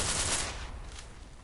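A rapid burst of video game gunfire in Combat 3, loud at first and then fading over about a second.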